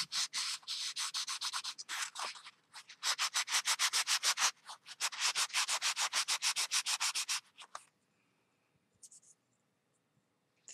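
Rhythmic back-and-forth sanding of a stamped craft piece destined for jewelry, steady rapid rubbing strokes in several bursts, close and fairly quiet, then stopping into near silence.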